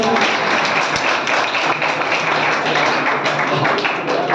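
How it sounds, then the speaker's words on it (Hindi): A crowd at an award ceremony applauds steadily, dense clapping filling the whole stretch without pause. "जोरदार तालियां।"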